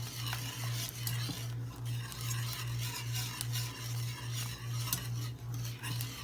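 A utensil stirring melting caramel in a pot on the stove, with rhythmic scraping strokes repeating about twice a second over a low steady hum and faint sizzle, close up.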